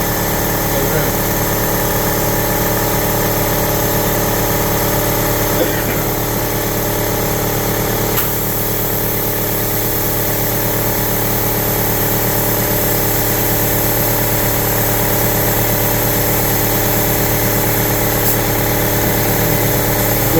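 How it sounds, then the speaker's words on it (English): An air compressor runs in a motorcycle repair workshop, a constant droning hum with a steady vibrating whine that holds unchanged and loud throughout. "Okay, finally that compressor shut off."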